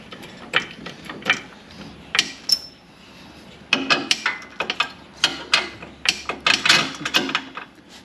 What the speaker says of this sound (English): jack this all the way up, so that way it slides in pretty easy